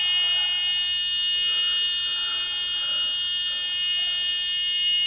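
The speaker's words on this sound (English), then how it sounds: "was that the elevator? The elevator got stuck open for a minute," Hospital elevator door stuck open, its held-open alarm buzzer sounding a steady, continuous high electronic tone with bright harmonics, moderately loud and unbroken, with no one talking.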